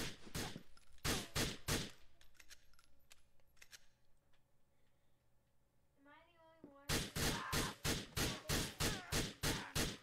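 Bursts of gunfire in GTA IV, a rapid run of sharp shots at the start and another long regular volley near the end, with a quieter gap between holding faint game sounds.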